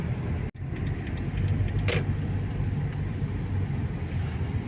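A car drives into Warsaw on a winter day with snow on the ground, heard from inside as a steady low road and engine rumble, with a brief click and a short whooshing pass partway through.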